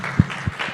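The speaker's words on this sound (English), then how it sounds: "Ladies and gentlemen, a big round of applause for" Short burst of audience applause at an innovation and digital skills training launch, a brief crowd clap with a couple of low thumps, lasting well under a second.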